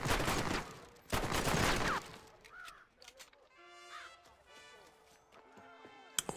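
A semi-automatic, Luger-like pistol fires in Red Dead Redemption as a loud, rapid burst of close shots over about two seconds. A lull follows, broken by crow-like calls and small sharp clicks, with no talk.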